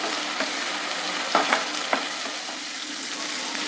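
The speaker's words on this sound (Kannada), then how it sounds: "ಇಲ್ಲಿ ಅವರೆಕಾಳಿನ ಹಸಿ ವಾಸನೆ ಹೋಗೋವರೆಗೂ ಎಣ್ಣೆಯಲ್ಲಿ ಚೆನ್ನಾಗಿ ಹುರಿಬೇಕಾಗುತ್ತೆ" Field beans fry in oil for a tempering, giving a steady close-up sizzle with a few light scraping stirs of a spatula.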